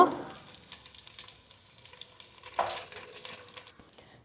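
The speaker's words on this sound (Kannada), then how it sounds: "ಒಂದು ದಪ್ಪ ತಳದ ಕಡಾಯಿಯನ್ನು ತೆಗೆದುಕೊಂಡು ಎಣ್ಣೆ ಹಾಕಿ ಬದನೆಕಾಯಿಯನ್ನು ಹುರಿದು ಅರ್ಧ ಬೇಯಿಸ್ಕೊಳ್ಬೇಕು" Brinjal fries in oil in a thick-bottomed kadai, giving a faint, close sizzle with light stirring scrapes. The sizzle peaks at the start and again about two-thirds through, then fades.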